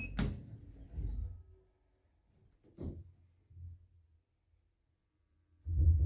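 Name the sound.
lift doors closing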